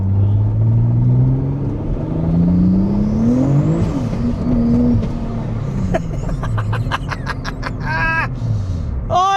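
A 500HP Vauxhall Adam VXR V6 engine pulls hard on boost, its loud rising drone climbing through the revs, dipping and climbing again, with a burst of sharp whistling chirps near the end.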